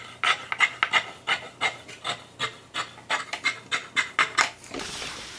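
Scissors snip through lace skirt fabric, trimming the selvage edge in a steady series of about fifteen close, crisp rasping cuts, then a brief hiss of handling at the end.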